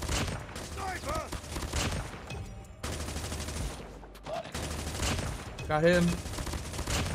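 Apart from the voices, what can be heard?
gunfire from a burst gun in video game Call of Duty Mobile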